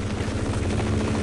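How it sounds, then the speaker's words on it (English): Helicopter from the video game Half-Life, a steady loud rotor drone with low thudding pulses filling the whole stretch, close and continuous with no talk. "the chopper is gonna just kill me"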